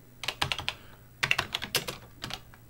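Keys clatter on a Tandy CoCo Color Computer keyboard in two quick bursts of clicks separated by a brief pause, close and fairly faint, with no voice.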